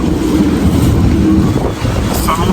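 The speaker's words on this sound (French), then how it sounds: "il est à 22 et puis hop, les rafales montent" Strong wind gusts at a marina in Liguria buffet the microphone in a constant low rumble, with a brief lull near the end and faint water or rigging sounds.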